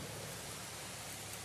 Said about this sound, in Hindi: जैसे तो अभी बहुत बारिश हो रहा है